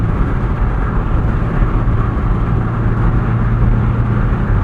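Steady road drone from inside a 2024 Porsche 718 Boxster Style Edition with its flat-four cruising on the highway: a constant low hum of engine and tyres, unbroken and moderately loud, with no voices.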